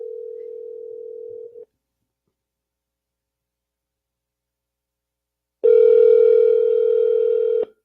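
Outgoing phone call to a guest: a steady ringback tone sounds for about a second and a half, then silence, then a second louder, richer tone holds for about two seconds. The signal comes alone, with no voices.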